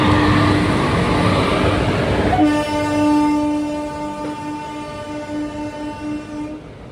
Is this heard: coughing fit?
no